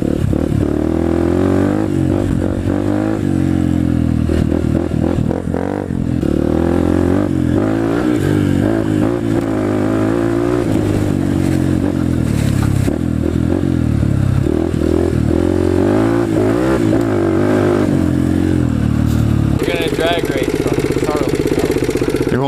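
Honda CRF150 and XR80 dirt bikes in a drag race, engines idling and revving loudly and steadily with clattering mechanical tones that shift in pitch throughout.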